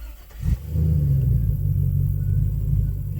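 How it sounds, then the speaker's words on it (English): Chevy Escarado truck with a cheap aftermarket exhaust, a brief rev at the start settling into a steady, close, deep idle rumble with no talk. "I like it because it has a little more of a rumble, and it's not droning you out of the truck"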